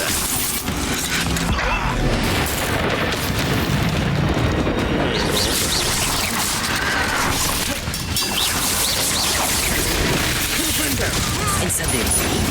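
An Incendio fire spell from Hogwarts Legacy bursts with a loud, dense roar of booming blasts and crashing debris. The noise stays heavy and continuous throughout, with mechanical clatter mixed in.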